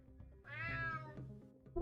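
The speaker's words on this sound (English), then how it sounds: "Damn cat." A cat in the UnMetal video game gives one clear, drawn-out meow, near and moderately loud, followed by a soft thump.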